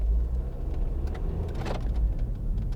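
A 2012 MINI Countryman Cooper SD four-wheel-drive diesel pulls away on leaves, a close low engine rumble with a brief swell as it sets off and faint road crackle.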